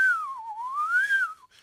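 A single person whistles one continuous, modulated tone that dips and rises in pitch like a coded signal, close and clear, lasting under two seconds with no talking.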